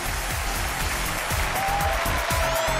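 Steady, full studio audience applause welcoming guests onto the Chinese relationship TV show stage, loud and continuous throughout with no voices over it.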